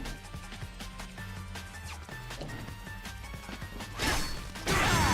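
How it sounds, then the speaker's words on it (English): Video game combat sounds: a series of clashing hits, then a louder block impact near the end followed by a longer fizzling burst as the lucky parry block plays. "More of a fizzle at the end, much longer sound effect compared to normal blocks."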